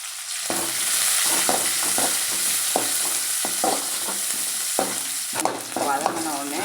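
Chopped onions sautéing with curry leaves in a pan for snake gourd poriyal, a bright steady sizzle broken by repeated rhythmic spatula strokes against the pan, close and fairly loud.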